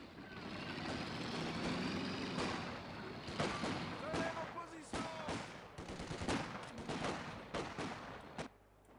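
Rapid bursts of gunfire crack over a rumbling engine in the video game Company of Heroes 2, a Dunkirk mission, with sharp shots clustered in the second half, dense and loud.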